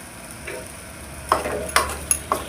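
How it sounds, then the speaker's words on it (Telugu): Fried potatoes being stirred into a tomato potato curry in a pan, with a few distinct spoon scrapes and clinks over a soft, steady sizzle, close and moderately quiet. "ఆలుగడ్డలు వేసుకున్నాక మొత్తం కలుపుకొని ఇవ్వాలి ఒకసారి."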